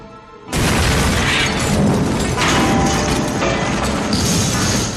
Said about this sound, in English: when the pieces got smashed, the filmmakers used compressed air to explode them from the inside